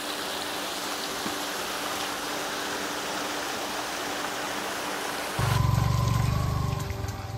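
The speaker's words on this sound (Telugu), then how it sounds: "సో వెళ్ళే దారిలో మనకి ఇలా చిన్న వాటర్ ఫాల్స్ అయితే కనిపిస్తాయి" Small waterfalls beside a muddy trekking route to Kudremukh, a steady broadband rush of falling water throughout, with a louder, closer low-pitched gush swelling in near the end.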